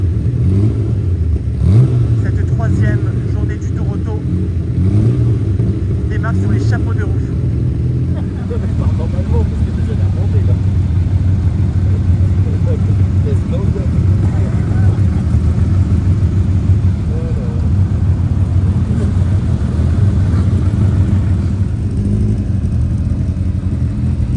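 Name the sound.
car engines warming up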